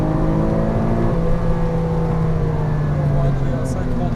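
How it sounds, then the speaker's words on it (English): A Porsche Cayman R engine drones loud and close on a track, holding a steady, heavy, even tone under throttle through the chicane. "Straight shot through the chicane on the throttle coming through."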